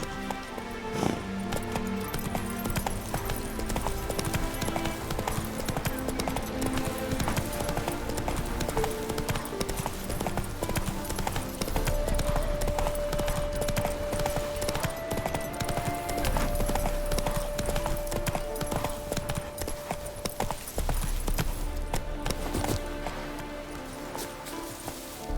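Hooves of a galloping horse in The Witcher 3: Hearts of Stone beat in a steady rapid clip-clop, close and continuous, over game music with a sustained tone partway through.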